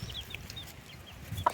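A native mother hen with her chicks, soft low clucks and faint high peeping close by, with one brief sharper cheep near the end.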